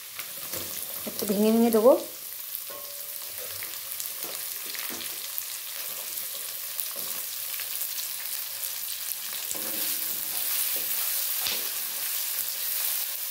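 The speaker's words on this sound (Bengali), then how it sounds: "আঁচ বাড়িয়ে দিয়ে পুরো ভালো করে লাল লাল করে পেঁয়াজটা ভেজে নেব।" Chopped onion hitting hot oil after garlic in a pan, for a chicken and potato curry, sizzles steadily for most of the span. Someone speaks briefly at the start over the hiss.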